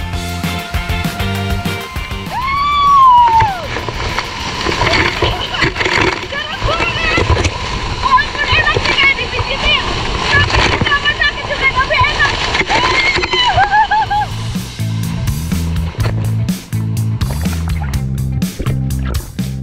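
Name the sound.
water splashing at waterfall pool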